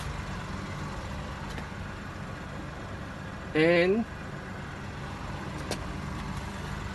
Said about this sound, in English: I start the engine of car just using the remote control